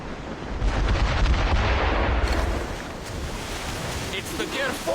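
Ship cannons boom over rough ocean waves and wind during a naval battle in Assassin's Creed Rogue, a heavy, continuous low rumble with surf noise, a distant voice briefly under it.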